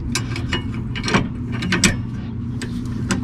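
A wrench with an extender works on 17 mm rear brake caliper bolts of a 2017-2022 Nissan Rogue Sport, giving rapid ratcheting clicks in short bursts, close and fairly loud, with no talk.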